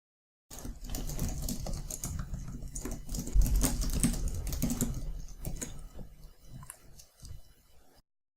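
Code being typed on a computer keyboard, a fast, steady patter of close key clicks that thins into scattered keystrokes near the end.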